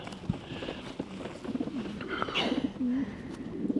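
A racing pigeon coos in several short, soft throaty phrases, close by, over faint background noise and a few light knocks and rustles.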